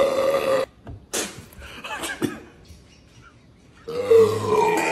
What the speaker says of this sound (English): chugging an entire bottle of Sprite and trying not to burp